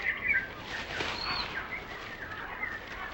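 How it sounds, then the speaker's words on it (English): Endangered thick-billed parrots give faint, scattered chirping calls over a soft, steady background hiss. "He's raising some endangered thick-billed parrots in the hope of releasing them into the wild."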